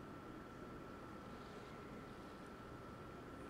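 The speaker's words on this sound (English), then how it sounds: "Anyone else hear that low hum? Sounds like it's coming from that statue." A steady low hum from a relay statue in Mass Effect, a droning engine-like tone with a faint constant whine above it, continuous and even throughout with no speech.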